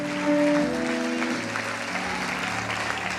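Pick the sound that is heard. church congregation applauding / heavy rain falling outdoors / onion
church congregation applauding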